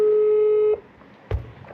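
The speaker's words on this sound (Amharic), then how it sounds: "እየጠራ ነው።" A steady electronic phone ringing tone sounds loud and close, then cuts off, leaving a quiet room with a brief thump.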